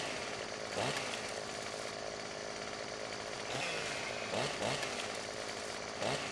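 Chainsaw cutting a tree in Farming Simulator 17, a constant buzzing whine with brief bursts as the blade bites, with faint talk underneath.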